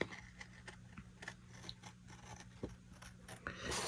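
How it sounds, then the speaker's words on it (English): Several crisp snipping cuts of scissors through paper, close up, with a faint hum underneath and no voices. "And then just cut that out with your scissors."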